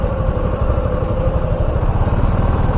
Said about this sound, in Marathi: खूपच बेकारवाला ट्रॅफिक लागून राहिलं बघा